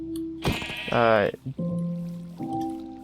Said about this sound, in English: I can't seem to hit this sheep